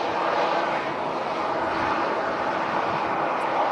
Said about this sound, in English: Oh my gosh, taxiing out right now. We have the Virgin Flight 75, the A350 1000.